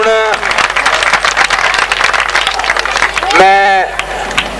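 Audience applause welcoming a guest at a confirmation gathering, dense clapping running steadily under a voice that speaks at the start and again near the end.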